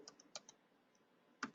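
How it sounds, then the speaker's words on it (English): Keystrokes on a computer keyboard during a Python data science lesson, a few separate clicks near the start and one louder cluster at the end, close and fairly quiet with no talking. "if I type the tab from the keyboard,"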